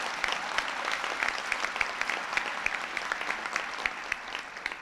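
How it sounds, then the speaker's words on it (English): Conference audience clapping in a large hall, a sustained burst of many hands with distinct sharp claps poking through the dense wash, steady throughout before easing off slightly. "It's good for you to clap."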